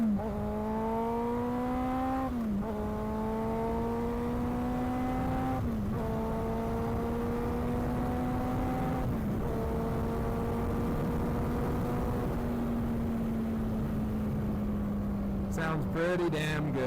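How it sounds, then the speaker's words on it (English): A Honda CBR motorcycle engine runs at a steady, droning pitch nearby, rising and dipping slightly with brief throttle blips every few seconds and a sharper rev burst near the end. "Hopefully the mic picks up how good this bike sounds."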